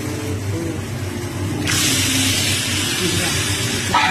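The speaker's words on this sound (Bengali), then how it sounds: "নিয়ে চিকেনটা দিয়ে দিলাম, দিয়ে এবার কষাবো ভালো করে।" Marinated chicken dropped into hot oil in a pan for chicken curry, a steady loud hiss that jumps in intensity and brightness partway through and keeps sizzling steadily.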